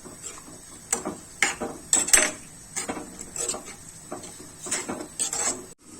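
A spoon scrapes and clinks against a pot while sprouted moth bean (matki) vegetable curry is stirred after salt is added, giving a series of close, irregular taps and scrapes with no talking.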